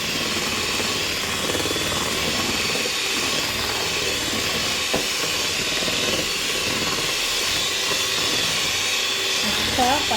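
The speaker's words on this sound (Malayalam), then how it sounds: "മുട്ട, പഞ്ചസാര, ബട്ടർ ഇത് 3 കൂടെ നല്ലപോലെ ബീറ്റ് ചെയ്ത് നല്ല പതപ്പിച്ച് നല്ല മിക്സ് ചെയ്ത് എടുക്കണം" An electric mixer beats eggs, sugar and butter together for cupcake batter, making a steady, loud whirring hiss that runs unbroken from start to finish.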